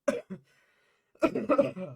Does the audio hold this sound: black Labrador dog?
no